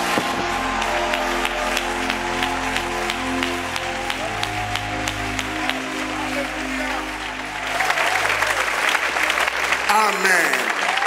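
A church congregation rises for a standing ovation, sustained applause and clapping filling the room, swelling louder near the end, with voices mixed in.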